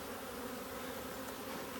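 Honeybees buzz around an open hive during a frame inspection, a dense, continuous drone of many insects at steady low volume with no talking.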